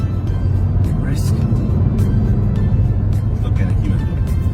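Suzuki Swift Sport with 230 Nm of torque pulling briskly, a steady loud engine drone filling the cabin for several seconds, with faint clicks and a person talking over it.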